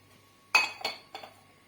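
A spoon clinks against a bowl three times, sharp and close, while salt and cinnamon are mixed together for northern-style peanut kaokao sweets; no one speaks.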